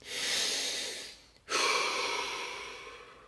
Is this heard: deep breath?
yes